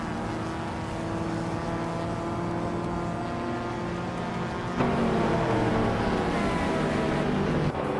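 Race cars in a racing video game roar off the start at Feldbergring in a 1990s slow cars class that includes a '91 Volkswagen Corrado, a dense steady engine drone that jumps louder about halfway through as the pack accelerates.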